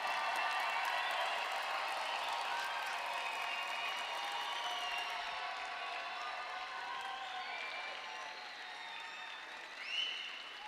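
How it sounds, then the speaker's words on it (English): Sustained applause for law and Master of Legal Studies graduates at a university graduation ceremony, a large crowd clapping steadily throughout and gradually thinning toward the end, with a brief louder swell near the close. "a big round of applause for all of our graduates"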